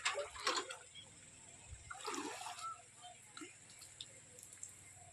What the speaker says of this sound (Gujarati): હવે ડોલ અમારી આ રહ્યો અહીં કૂવો, सींची લઉં પાણી